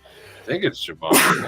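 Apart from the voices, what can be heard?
sneeze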